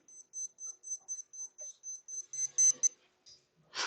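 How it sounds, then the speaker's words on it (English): An alarm going off early, sounding as a run of about a dozen evenly spaced high beeps, then a burst of louder rustling and a short noise near the end. "I set my alarm 2 hours early"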